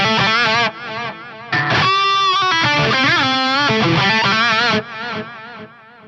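Electric guitar played through a Korg Toneworks 301 DL delay unit with pre-delay, bright sustained notes and bends followed by rhythmic echoes trailing behind the phrases, loud and up close with no talk.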